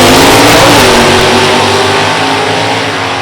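Two drag cars, a 340 Cuda and a 350 Camaro, launch off the line at a Beech Bend Raceway NHRA event, their engines a loud sustained roar of revving that fades slightly as they pull away.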